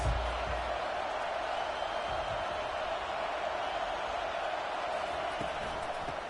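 Football stadium crowd roaring steadily, a loud, dense wall of voices filling the whole stretch without pause.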